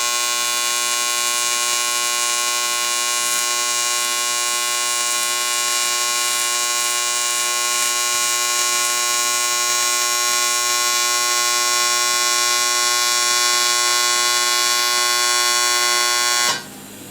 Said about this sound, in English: So, before I add some filler rod, I use the torch to boil off some of the impurities.